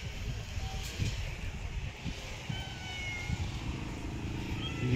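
A cat meows a few times outside near a warehouse, short cries over a rumbling, windy background of traffic and engine noise, fairly close but not loud.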